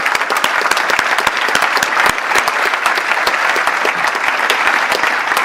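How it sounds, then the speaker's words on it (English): A crowd at a police awards luncheon in Burbank gives award recipients a round of applause, loud and close, with many distinct sharp claps in a dense, sustained burst. "Please join me in one more round of applause for all of our award recipients here this afternoon."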